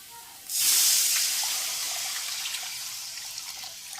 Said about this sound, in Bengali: মশলা কষানো হয়ে গেছে, এখন দিয়ে দেবো জল।